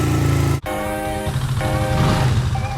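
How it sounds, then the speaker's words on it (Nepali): A new motorcycle's engine runs steadily and loudly at idle, close by, with a brief cutout early on before the steady hum resumes. "अदिपको नयाँ बाइक"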